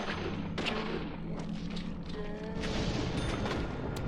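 Gunfire in the video game Deadly Premonition comes as muffled, booming shots and thuds over a dense game soundscape, fairly low in level with no talking.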